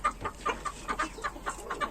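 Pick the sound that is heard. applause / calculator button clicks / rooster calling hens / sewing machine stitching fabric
rooster calling hens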